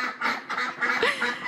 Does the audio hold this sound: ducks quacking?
yes